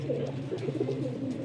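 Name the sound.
pigeons cooing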